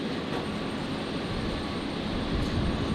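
A Jetstar airliner in Pride livery comes in to land at Brisbane airport, a steady moderate engine roar that swells slightly near the end, with no voices.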